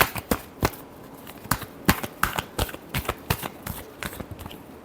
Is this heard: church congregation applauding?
no